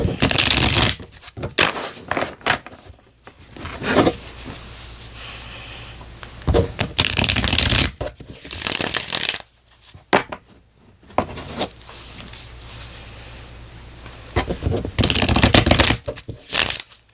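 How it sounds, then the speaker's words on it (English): Tarot cards are shuffled in repeated quick riffling bursts, close up, separated by short pauses and soft handling noises. "I've been shuffling and meditating"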